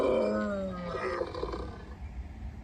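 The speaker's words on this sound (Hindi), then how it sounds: "ऐसा कहकर उसने जोर से दहाड़ लगाई।" A lion lets out one loud, drawn-out roar that starts close and strong, then falls away into a low rumbling growl and fades.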